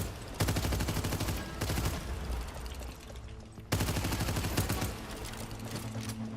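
Rapid automatic gunfire in the video game Abyssus, two long loud bursts of dense shots close up, with a short lull between them and no talk over it.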